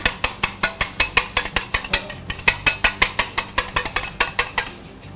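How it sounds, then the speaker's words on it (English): Egg and beer being whisked together in a bowl, a steady run of quick, sharp clinking strokes against the bowl that slow and fade out near the end. "whisk this together"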